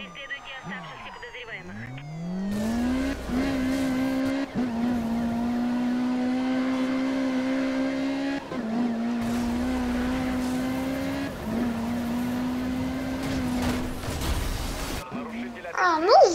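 Engines whine steadily with shifting pitch during a police pursuit in the video game Need for Speed Rivals, a continuous close drone with gear-change dips, under game audio.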